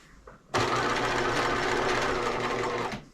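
A sewing machine bastes raw edges while a band is stretched onto a small Barbie doll top, starting after a brief pause and running in one steady, close, continuous burst for under three seconds.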